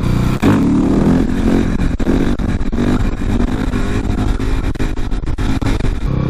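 A 2018 KTM supermoto motorcycle is ridden with a loud, close engine roar that rises and falls, mixed with heavy wind buffeting and clattering. No speech.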